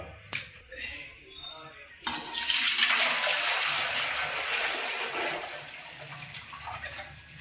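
Water is poured from above into a pot set on a gas stove for biryani rice, a sudden loud rushing splash that starts after a small clink and fades slowly as the pot fills.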